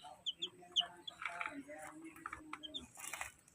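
A newly hatched chick, from the last egg of a white Kelso hen placed in an incubator, gives several thin, high peeps in quick bursts, close by, over a soft background murmur.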